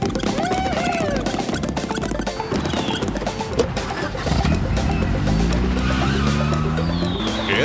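A car accelerates hard and skids, tires squealing as the engine revs climb toward the end, with a crash-like clatter and busy, loud staging noise throughout a TV science show scene.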